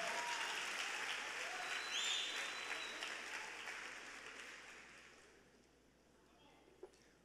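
Church audience applauding warmly, a full wash of clapping that starts strong and gradually fades away over several seconds, with a few voices cheering within it.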